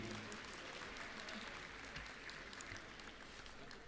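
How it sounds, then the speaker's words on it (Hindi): Audience applause for children at the Excellence in Education Awards 2024, a steady, broad wash of clapping lasting throughout, fairly distant and even in level with no talk over it. "जोरदार तालियां एक बार इन बच्चों के लिए भी।"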